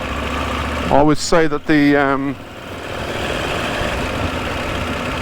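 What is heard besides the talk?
KTM 890 Adventure R motorcycle engine in off-road mode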